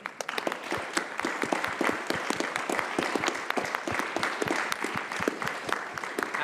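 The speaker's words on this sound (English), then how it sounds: "So let's give a round of applause" An audience at a physics talk gives a round of applause, many hands clapping with individual sharp claps standing out through a lively, continuous crowd clatter.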